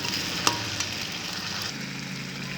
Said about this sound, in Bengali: ভালো করে নাড়াচাড়া দিয়ে কষে নিতে হবে।